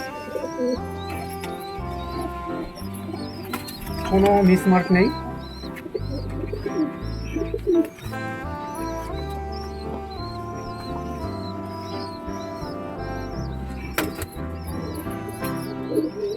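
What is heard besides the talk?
pigeons cooing and flapping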